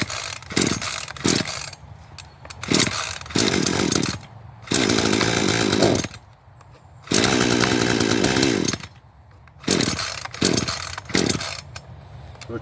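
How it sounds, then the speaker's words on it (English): A chainsaw is run by a first-time user, close and loud, revving in repeated bursts of a few seconds each between idling lulls and short blips of the throttle. "First time using a chainsaw"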